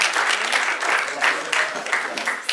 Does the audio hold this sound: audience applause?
yes